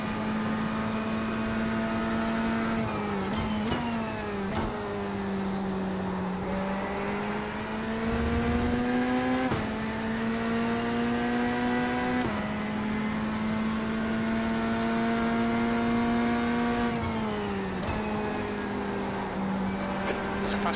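A race car engine in a sim racing video game drones steadily throughout, its pitch climbing through each gear and dropping sharply at shifts, loud and continuous, with no talk over it.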